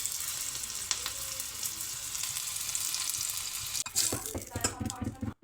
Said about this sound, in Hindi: तो अभी मैं दाल में तड़का लगा रही हूँ।